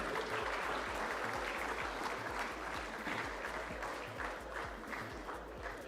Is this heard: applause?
yes